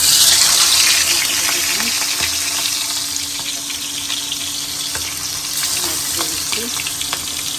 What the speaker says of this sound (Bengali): আর এখন আমি মাছগুলো ভেজে নেব।